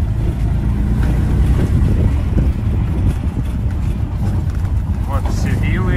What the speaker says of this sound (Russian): Едем на тук-туке по территории.